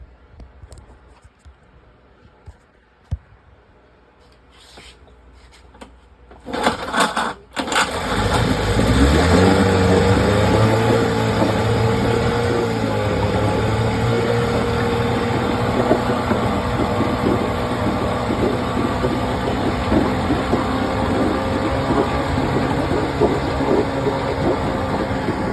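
A freshly serviced 1976 Johnson 9.9 outboard motor, run on fresh water, starts cold after a few quiet pulls and knocks, catches with a loud burst, then settles into a steady, close, even idle.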